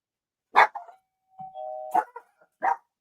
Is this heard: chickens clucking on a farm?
no